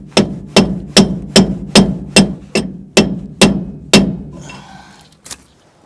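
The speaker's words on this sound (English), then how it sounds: "I'm going to go to the other side and hammer this race out." Steel hammer blows knocking a bearing race out of a Chevy 12 bolt axle housing during a posi installation, about ten sharp, evenly spaced metallic strikes, loud and close, then a brief rattle and one last hit.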